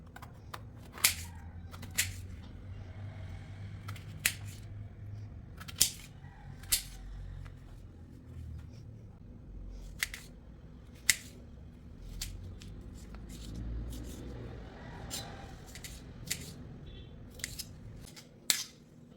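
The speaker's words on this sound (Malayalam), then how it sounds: "കുരുക്കെ മുറിച്ചെടുക്കാം" Snake gourd being cut with a knife to remove its seeds: close, scattered crisp snips and slicing ticks, irregular and fairly quiet, repeated throughout with no talking.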